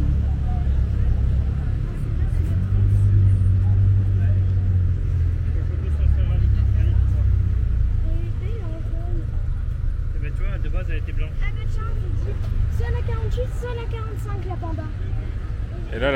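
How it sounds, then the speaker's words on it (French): A modified Peugeot 205 Rallye drives at a classic car gathering, its engine a steady low rumble close by, with people talking over it throughout. "Là, il y a une 205 Rallye qui est modifiée."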